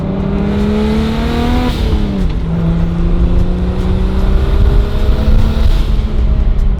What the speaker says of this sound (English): let's give it some rips and open the gates